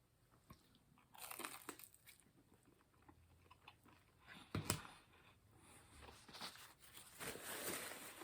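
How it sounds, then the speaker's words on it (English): A crunchy, toasty Little Caesars breadstick is bitten and chewed close to the mic, faint crunches building into a sharper bite midway and then continued soft chewing, with no talking. "Let's try the breadsticks first, okay?"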